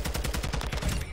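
Rapid shotgun-style blasts fire in quick succession during a Call of Duty: Modern Warfare II match, with a steady rhythm of loud, punchy reports filling the short stretch.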